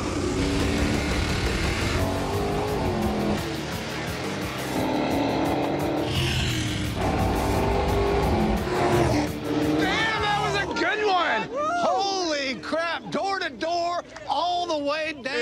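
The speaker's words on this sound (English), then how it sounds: "going up against Derek and his Hellcat, Eleanor, and we're going to see what happens." Street Outlaws drag race between a Hellcat and the car Eleanor: loud, sustained engine roar and engine noise build for about ten seconds, then gear-shift revving and fluctuating engine tones as the cars pull away, with voices in the mix.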